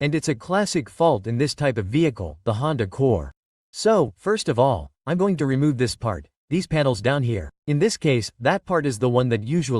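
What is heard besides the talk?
No everyday noise stands out behind the speech.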